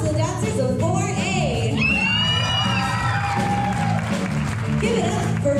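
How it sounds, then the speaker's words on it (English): Elementary school show audience applauding and cheering for young dancers, a dense wash of clapping with high children's shouts and whoops rising through it, loud and close throughout. "let's give a round of applause to the dancers of 4A"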